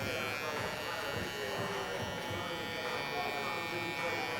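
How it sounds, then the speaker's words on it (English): Metal-edition hair trimmer cutting a burst fade in a barbershop, a steady close electric buzz running continuously throughout. "I'm using the Instant trimmer right now, the metal edition."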